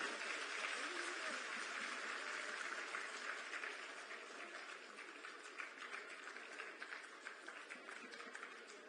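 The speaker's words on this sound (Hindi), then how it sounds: "जोरदार तालियां होनी चाहिए आपके तरफ से।" At a job appointment letter ceremony, an audience gives applause to welcome the state chief minister. The dense, continuous clapping is heard from a distance and fades slightly over about nine seconds.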